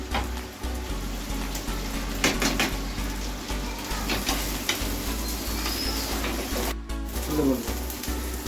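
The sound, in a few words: frying chopped onion, ginger and garlic in a pan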